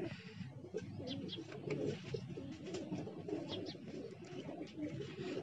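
Pigeons coo softly in a loft, several birds layering low throaty calls over one another in a continuous, moderately quiet murmur with a few faint chirps on top.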